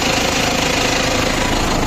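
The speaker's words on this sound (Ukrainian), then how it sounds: "Так, їду ось трактором вздовж цієї ділянки." A tractor engine runs loud and close as the tractor drives along a field plot, with a steady, rough, knocking drone that holds even throughout. No one speaks.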